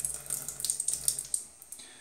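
Water splashes and pours from a container into a sink in a series of quick uneven gushes and drips, close and fairly soft.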